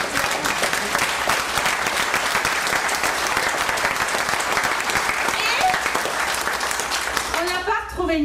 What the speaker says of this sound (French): Allez, on va vous applaudir.